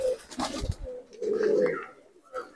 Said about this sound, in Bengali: এত সুন্দর কোয়ালিটি পায়রা